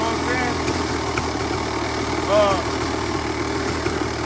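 A Kawasaki KX 500 two-stroke dirt bike engine idles steadily at close range after sitting for months, with a brief louder swell partway through.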